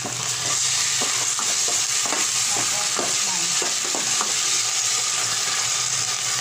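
Shrimps are stirred in a sizzling onion, catsup and butter sauce, a steady hiss of frying under a series of scraping utensil strokes against the pan.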